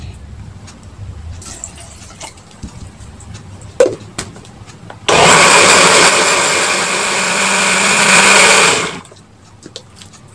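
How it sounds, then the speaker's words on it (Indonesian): A kitchen blender whirs through ingredients and water, a loud steady motor roar that kicks in abruptly, runs about four seconds with a slight dip in pitch, then cuts off, following quieter clatter and handling noise. "Kita langsung blender aja."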